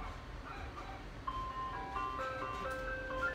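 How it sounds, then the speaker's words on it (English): Ice cream truck jingle plays a simple melodic tune at a moderate distance over steady outdoor background noise, with no speech. "Y'all hear the ice cream truck?"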